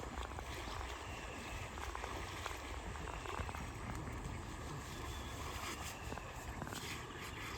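River water rushes steadily at a spot where elephants are bathed at a camp in Balehonnur, the flow swollen after recent rain, a soft continuous churn with no break.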